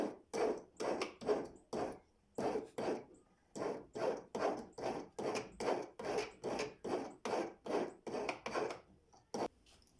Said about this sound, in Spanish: Para pasar en esto primero hay que sacarle punta al alambre con una lima de esta forma.